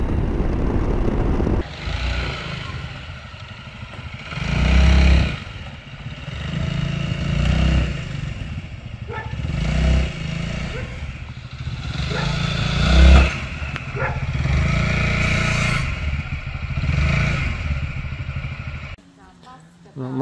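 Honda ADV350 scooter ridden with a passenger on the road, its engine droning steadily with swells of acceleration and wind rush, while a rider talks over it throughout.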